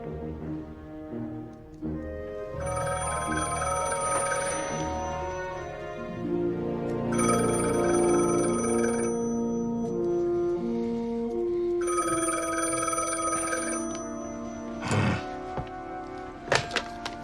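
A telephone rings in repeated bursts with pauses between them, bright bell-like tones over low music and a few thuds.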